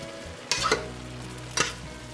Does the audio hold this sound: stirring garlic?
yes